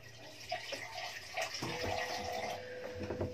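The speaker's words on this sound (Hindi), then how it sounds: "इसमें थोड़ा सा मैं पानी डाल देती हूँ।" A little water is poured into ground masala with cashew and tomato puree while cooking a matar makhana curry, a faint splashing trickle with soft kitchen clatter.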